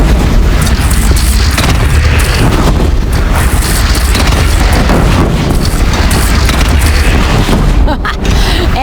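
Cannon fire and battle chaos in the video game Horizon Zero Dawn: The Frozen Wilds, a loud, continuous barrage of booms and blasts filling the scene, with voices shouting amid the din.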